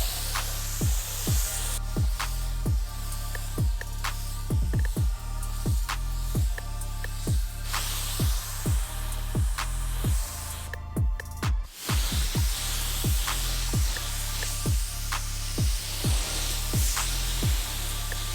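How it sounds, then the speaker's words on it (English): A spray gun applying Raptor bed liner coating hisses steadily and loudly throughout, broken by short regular pulses and one brief pause, with no talking. "So you're wondering what I'm spraying. It's actually just this Raptor liner."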